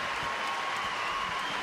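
A crowd at a lead climbing World Cup final in Stavanger applauds and cheers with a steady, even roar of clapping throughout, fairly loud and unbroken.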